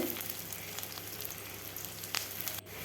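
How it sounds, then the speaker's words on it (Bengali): Chopped onions and green chillies fry in hot oil, a steady soft sizzle crackling evenly for a few seconds without any voices. "পেঁয়াজ দিয়ে লাল লাল করে ভেজে নেব"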